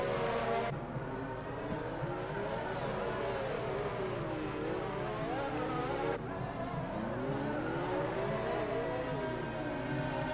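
F1 2019 race cars lapping Monaco under a safety car, a steady droning engine whine with wavering pitch sweeps, continuous and moderately distant, with no clear talk.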